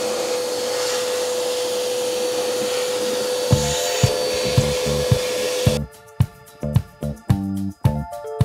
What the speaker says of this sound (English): Let's see if I can vacuum it out.